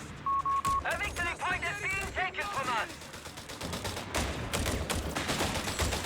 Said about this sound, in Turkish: Bunlarda makine tüfek var abi. Hafif makineli.